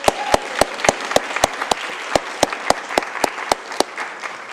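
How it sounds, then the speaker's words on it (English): An audience at a youth leadership conference bursts into sustained applause, dense clapping carrying steadily from start to finish with a few sharper individual claps standing out near the front. "I would like to give them another round of applause"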